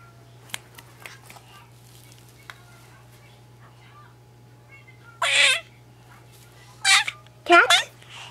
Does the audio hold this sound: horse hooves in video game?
no